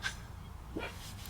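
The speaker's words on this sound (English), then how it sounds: "the dogs are barking" Dogs give a couple of soft, muffled barks and whimpers indoors at home, faint and somewhat distant against a low background rumble.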